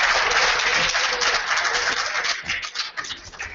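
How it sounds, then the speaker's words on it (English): Sustained audience applause at an event, dense steady clapping from a crowd that thins slightly toward the end, with no speech over it. "Let's have a huge round of applause for Mr. Mike Berry."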